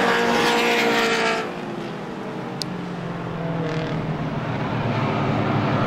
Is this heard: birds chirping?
no